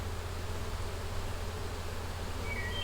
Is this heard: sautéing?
no